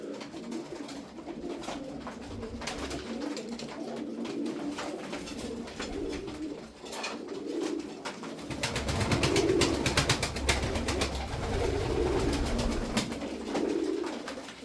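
Fancy Arab pigeons, a breeding family, coo repeatedly in low, soft rolling calls, fairly close, over a steady background hum with no voices.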